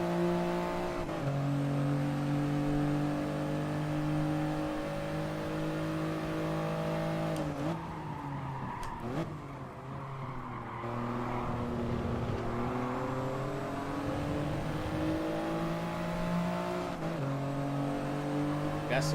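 Race cars in Gran Turismo Sport scream through gear changes at Sardegna Windmills, their loud engines rising and falling in steady revving cycles, with a commentator talking over the racing.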